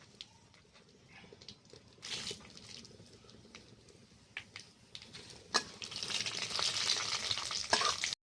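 Bay leaves and panch phoron spices frying in hot oil for a vegetarian moong dal ghonto with ridge gourd, a steady close crackling sizzle that swells into loud, dense spitting after a few sharp pops.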